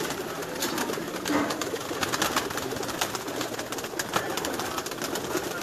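Pigeons coo inside a champion racing-pigeon loft in Sialkot, with soft, overlapping throaty calls over a busy, rustling background that continues steadily without speech.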